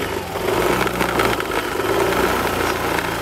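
A motorcycle engine held at a low, steady idle and given a gentle bit of throttle during a battery and charging check with a Motobatt tester, a continuous mid-pitched hum with faint knocking texture, close and alone.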